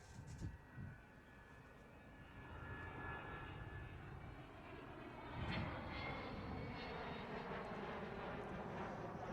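A large bomber aircraft with a payload of some 21,000 pounds flies at the RAF Waddington airshow, its engine roar distant and faint, slowly building and swelling midway.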